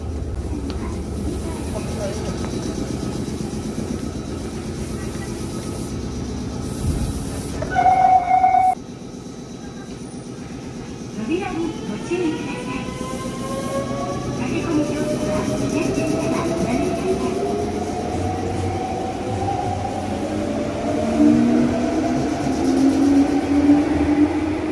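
Train ride from Kamimaizu to Yabacho, a steady rumble of the rail car interior with rising whine and clatter as it moves, fairly quiet, with brief louder knocks partway through.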